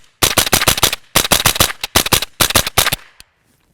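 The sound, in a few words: suppressed rimfire rifle firing CCI Mini Mag ammunition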